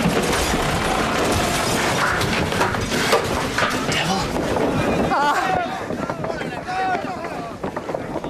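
A wooden sailing warship runs aground amid loud, sustained crashing, creaking timber and rushing noise, then the din eases while shouting voices are heard over it.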